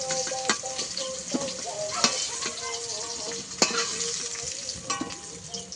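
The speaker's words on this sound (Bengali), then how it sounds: "কাঁকরোলটা ঠিক এইভাবে ভেজে নিয়েছি, এবার তুলে নেব কাঁকরোল ভাজাটা" Pointed gourd pieces fry in hot oil with a steady soft sizzle, broken by repeated sharp clinks and scrapes of a spatula stirring against the pan, close and moderately quiet.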